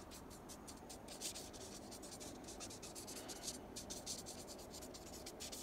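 The very tip of a marker scribbles lightly across paper, a faint continuous scratchy rasp of quick repeated strokes heard close up.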